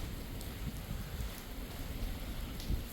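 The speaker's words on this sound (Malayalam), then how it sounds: "നല്ല മഴയും ഉണ്ട്." Rain falling on a cruise ship balcony aboard Royal Caribbean's Anthem of the Seas at sea, a soft steady hiss with scattered close drops and light wind, fairly quiet and without voices.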